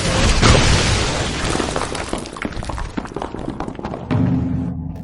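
Fire blasts in an anime ninja fight, the Phoenix Flower Jutsu fire attack: loud booming, crackling explosions with shattering debris, a dense roar at the start easing off, then another heavy burst near the end.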